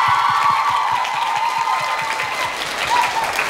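Audience at a Bangkok fan-con press event applauding a performer, a dense, steady wash of many hands clapping close and loud, with a faint high cheer riding on top and no talk.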